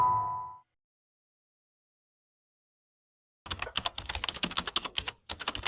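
Steady, close typing on a computer keyboard in a dark room, rapid soft key taps in a continuous run after a brief tone and a long silence.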